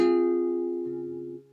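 A single fingerpicked acoustic guitar chord from a song rings out and slowly decays over about a second and a half, quiet and close, with no other sound.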